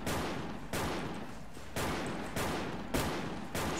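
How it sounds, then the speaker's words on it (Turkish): Bursts of automatic gunfire in a shooter video game, five or six sharp, loud volleys at roughly even intervals, each with a decaying tail, close and without talk. "Şu an kime sıkıyorum bilmiyorum ama bir kişi gitti aradan"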